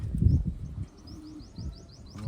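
Soft throaty coos from a large Taiwan racing pigeon near at hand, with a thin chirping series of high bird notes faintly in the background.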